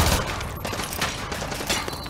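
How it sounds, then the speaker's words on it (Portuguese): Rapid automatic gunfire crackles in a dense, continuous fusillade in Call of Duty Modern Warfare 2 Remastered, loud and unbroken, with overlapping bursts and no voices. "Tem alguém atirando lá de cima na gente"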